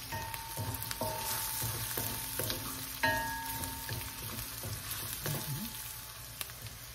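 Beef pares frying in a pan with pepper, a steady sizzle broken by occasional stirring scrapes and clinks, close and fairly quiet, with no talking.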